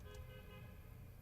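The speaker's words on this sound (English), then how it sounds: "Sorry that you guys can hear the cars outside my house." Cars passing on the road outside a house, heard indoors as a steady low traffic rumble with a faint brief horn-like toot near the start; no talking.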